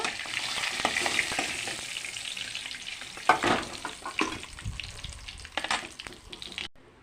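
Potatoes frying in hot oil in a pan, with a steady crackling sizzle, bursts of stirring and spatter, and loud pops partway through before the sound cuts off at the end.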